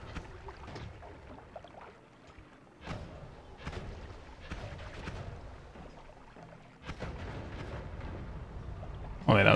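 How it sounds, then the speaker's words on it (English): Big explosion in the video game Noita: broadband booming bursts recur across the clip, building to a loud blast at the very end, with game noise throughout and someone talking underneath. "Oh wait, that was a big explosion."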